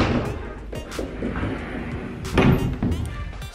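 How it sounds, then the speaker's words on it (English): A door between a hallway and a bathroom in a house is opened, giving a few close, dull thumps and knocks over a steady room background. "So open this door."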